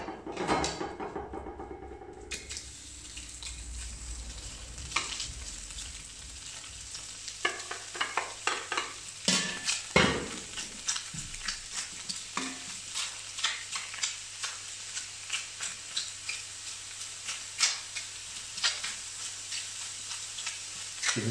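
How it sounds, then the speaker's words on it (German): Chicken meat sears in a hot pan on half power, a steady sizzle and hiss with frequent scraping and clattering of a turner against the pan, rhythmic and close, no talk. "Wir braten unser Fleisch an."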